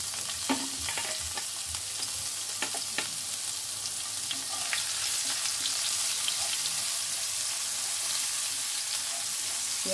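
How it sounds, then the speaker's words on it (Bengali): Chopped onions fry in oil with kalonji seeds, giving a steady close sizzle broken by irregular spatula scrapes and light crackles, with no talking. "পেঁয়াজটা খুব ভালো করে ভেজে নেব"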